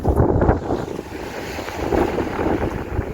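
Ocean waves break and wash steadily onto the shore at Cayton Bay, a continuous loud surf roar with gusty wind buffeting the microphone throughout.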